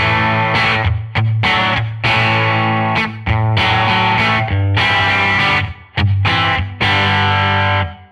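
An electric guitar played through an amp plugin's lightly overdriven preset, a run of loud strummed chords with gritty sustain and short choppy breaks between hits.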